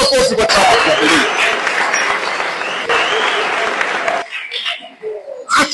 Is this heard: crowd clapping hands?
yes